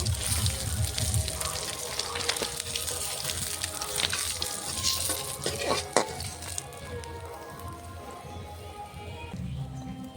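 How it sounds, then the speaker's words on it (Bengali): Steady crackling sizzle of rohu fish frying in hot oil, with occasional utensil clinks, continuous and fairly close, no voices. "বাকি মাছগুলো ভাজা হয়ে গেছে, নামিয়ে নেব"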